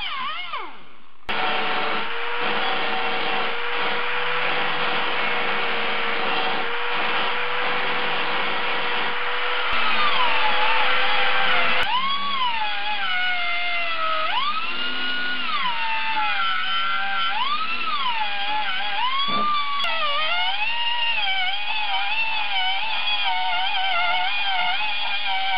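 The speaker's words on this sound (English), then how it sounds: "I probably used every single handheld grinder in the place, as well as every variety of grinding disc that I have to get this done" Handheld grinder working the rear passenger floor sheet metal of a 1976 Mazda RX-5 Cosmo, a loud, sustained high whine that shifts pitch as the disc is pressed and eased, running continuously for over twenty seconds.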